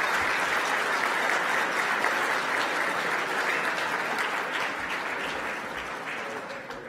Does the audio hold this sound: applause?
yes